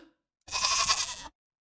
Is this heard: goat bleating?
yes